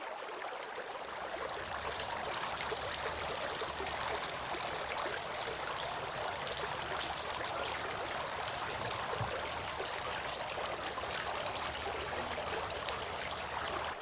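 Water pours steadily and continuously during Islamic ablution washing, a close, loud, even rush like a running stream with no talk over it.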